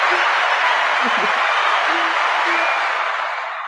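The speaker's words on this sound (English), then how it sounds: "Big round of applause for Miss Mascord" A studio audience gives a big round of applause for Chloe Mascord, a steady wash of clapping that holds evenly, then slowly tapers off near the end.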